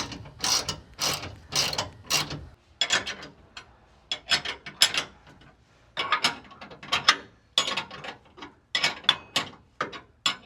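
A ratchet wrench tightens 13 mm bolts on a truck bed step bracket, producing bursts of sharp, close clicking with short pauses between strokes.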